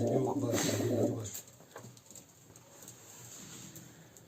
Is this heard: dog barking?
no